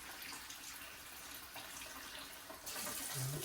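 Hot water running from a shower tap in a small off-grid cabin, a steady faint hiss that grows slightly louder and brighter toward the end, with no talk.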